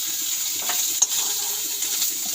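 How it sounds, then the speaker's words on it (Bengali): Cauliflower frying in oil in a pan gives a steady, fairly quiet sizzle that holds throughout, with one brief soft knock partway through. "দেখো ফুলকপিটা আমি ভাজা করছি"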